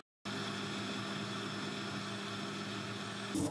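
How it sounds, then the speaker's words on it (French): Blender whirring as it purées a sauce for a budget meal, a steady loud motor drone with constant buzzing harmonics running throughout after a brief silent start. "Je vais mixer ça et après je viendrai le rajouter dans la casserole."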